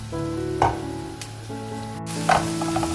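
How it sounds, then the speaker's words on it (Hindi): Onions softening in a pan for white badami korma, giving a steady close sizzle with a few louder stirring scrapes, no voices. "ये देखिए प्याज अब थोड़ा सा फ्राई हो गया।"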